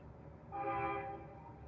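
A train horn sounds faintly in the distance in one short, steady blast rising and fading over the background hum.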